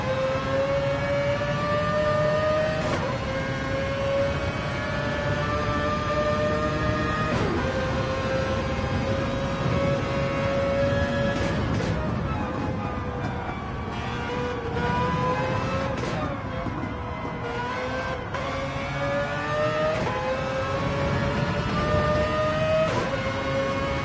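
Onboard a Mazda race car in a racing video game at Suzuka, the engine whines close and loud throughout, climbing in pitch and dropping sharply at each gear change, with several shifts heard.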